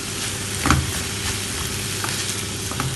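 Vegetable curry, made without onion or garlic, sizzles steadily in a pan while a spoon stirs and scrapes through it with a few soft knocks, close up and continuous.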